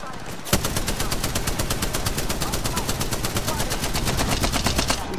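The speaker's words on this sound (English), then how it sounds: "Firing some warning shots." Sustained automatic gunfire in Apex Legends rattles off as a rapid, evenly spaced stream of loud, close shots that runs for about five seconds without a break.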